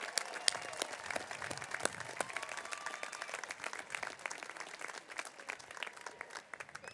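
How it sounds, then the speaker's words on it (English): Applause for families and supporters in the stands at a spring undergraduate university commencement, scattered crisp claps from a large, spread-out crowd, fairly faint and distant. "a big round of applause."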